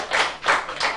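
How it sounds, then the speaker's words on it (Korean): Three sharp bursts of hand clapping about a third of a second apart, close and fairly loud, during a Buddhist sutra lecture on the Diamond Sutra, with no talk over them. "이제 박수 치고"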